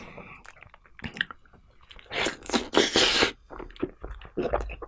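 Close-up chewing of a large bite of durian fruit, with wet squishy mastication and soft crunching in bursts, loudest in the middle, alone without talk.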